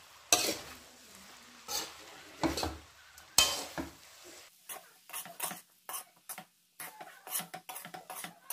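Amla and green chilli pickle being stirred in a pan with the gas switched off, a series of close, irregular scraping and clinking strokes of a spoon against metal with a light sizzle between them.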